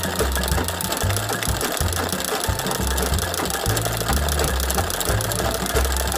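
Embroidery machine stitching a design of three roses, running alone with a loud, continuous rapid mechanical clatter and a steady rhythmic needle beat throughout.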